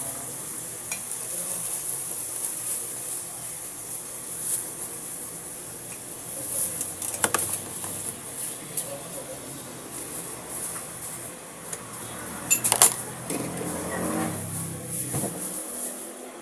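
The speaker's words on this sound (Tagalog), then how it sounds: "na naman ang ulan sa bubong ng bahay." Steady rain patters on a roof, a continuous broadband hiss with a few louder splashes and knocks standing out along the way.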